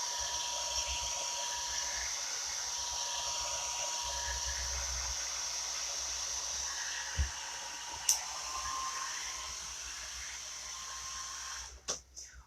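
A hair dryer blows steadily over chalk-painted craft work, a continuous airy whoosh with a faint whine, close by. A few soft knocks and handling sounds break in near the end.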